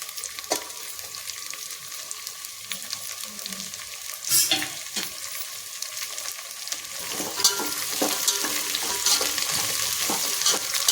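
Peas, beans, carrot and capsicum sizzle steadily in a hot pan for a mushroom pulao, with a loud, continuous frying hiss and intermittent scrapes and clacks as the vegetables are stirred.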